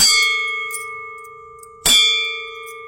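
Two metallic strikes on an old brass cooking vessel, each ringing out with long, sustained bell-like tones like a temple bell that slowly fade; the second hit comes after a pause.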